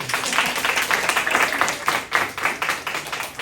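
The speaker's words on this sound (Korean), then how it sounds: "박수." A church congregation at a Sunday service clapping, a modest group's uneven, distinct claps close by for a few seconds, without talk over it.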